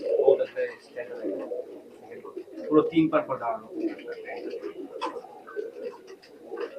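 A male Pakistani high flyer pigeon in a loft coos repeatedly in low throaty bursts, close by, while someone talks over the calls throughout.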